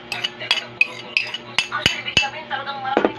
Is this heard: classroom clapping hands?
no